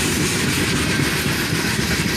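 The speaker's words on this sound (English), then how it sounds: "the end of the train went by." The tail end of a CSX freight train rolls past in the rain, a steady, loud rumble of railcars with a faint rhythmic clatter and no talk.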